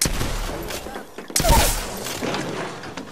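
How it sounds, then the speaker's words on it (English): Gunfire in the Apex Legends video game, a burst of shots over continuous game noise with a sharp loud blast midway, while a voice talks over the action. "Shot fired. They're hitting me. Attention. Opening fire."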